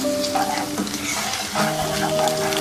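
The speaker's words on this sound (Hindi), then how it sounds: "अब इसमें ये जिंजर गार्लिक पेस्ट शामिल कर देंगे और इसको भी इसमें फ्राई कर लेंगे।" Ginger garlic paste frying with light golden onions in a pan for Pakistani chicken balti, a steady moderate sizzle with faint tonal ringing and stirring scrapes.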